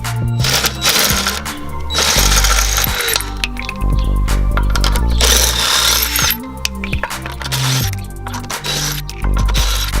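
Car jacked up in a garage to fit wheel spacers: loud clanking and ratcheting from jack and tools, with steady mechanical clatter and metallic knocks throughout, no talking.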